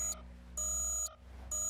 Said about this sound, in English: why'd you set the alarm?